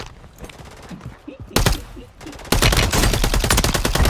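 Reclaimer 18 shotgun fire in Warzone 3 comes as rapid, loud bursts of close gunshots, sparse at first and then a dense, sustained barrage, with a voice talking faintly underneath.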